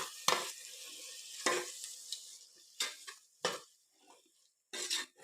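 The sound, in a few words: mixing curd into chicken for Chennai biryani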